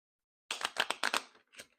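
Go Fish playing cards being shuffled by hand, a quick close burst of papery riffling flutters lasting about a second, then a brief final flick, with no talking.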